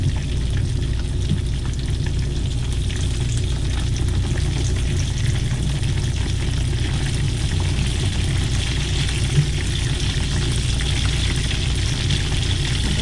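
Food fries in a large skillet with a steady, continuous sizzle and occasional faint stirring, loud and close throughout with no talk.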